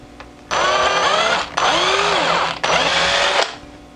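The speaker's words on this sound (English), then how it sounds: "It's all drilling holes from here on in." A power drill bores holes into a handmade wooden Jitterbug fishing lure in three close, loud bursts of high whirring, each winding up and cutting off with short pauses between.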